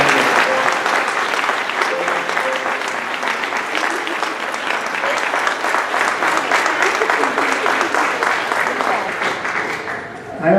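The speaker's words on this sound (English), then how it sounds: "Come on up and let's give them another huge round of applause." Long, loud round of audience applause at an honoring ceremony, dense many-handed clapping sustained for about ten seconds before breaking off abruptly at the end.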